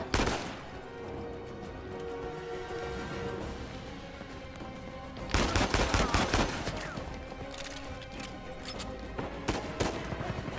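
Heavy gunfire from a powerful weapon in Uncharted 4, with bursts of loud, rapid shots opening the clip and returning in dense volleys over continuous game ambience.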